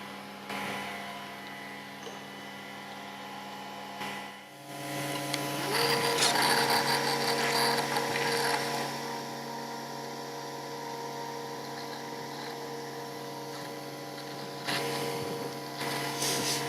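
A Festool Conturo KA 65 edge bander feeding and applying edge lipping, a steady mechanical whine and hum that rises after a brief pause and holds, with a near, continuous motorised drone.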